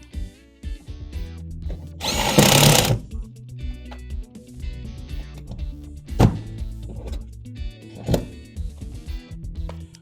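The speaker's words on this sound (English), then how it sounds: "Oh, didn't drill big enough." A power drill whirs in a short, loud burst near the start, drilling a probe hole in a Trane rooftop unit, with clattering and handling noises before and after.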